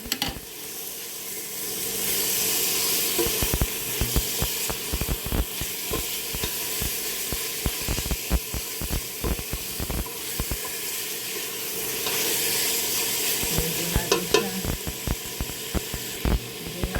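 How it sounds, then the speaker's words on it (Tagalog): Pork liempo sizzles and crackles steadily in a hot pan while being stir-fried, with repeated scraping and stirring strokes throughout, fairly loud and close with no talking. "Lagyan na po natin ang ating liempo at ating stir fry"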